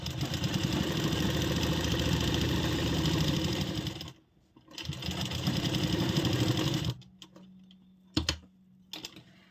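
A sewing machine stitches a kurti in long continuous runs, a dense rapid mechanical whir that stops abruptly, restarts, then gives way to a low hum and a few short bursts.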